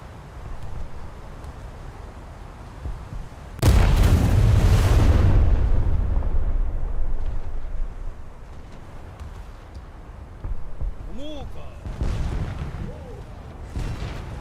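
Heavy naval guns boom in a warship battle game, one loud deep blast rolling out for several seconds, followed by a few fainter distant shots with no talk.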